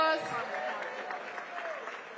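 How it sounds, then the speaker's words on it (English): Seniors at a city senior festival applauding an agency leader, a soft, steady clapping bed that fades slightly, with a voice trailing off at the start. "Give Sharon Hines a big round of applause."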